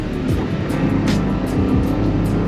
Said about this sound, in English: I like to high rev, so that's probably why you can hear that